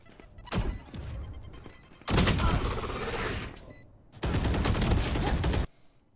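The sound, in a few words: Raze grenade exploding in video game Valorant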